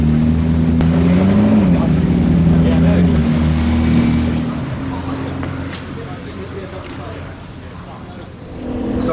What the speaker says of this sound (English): So I'm now in the McLaren P1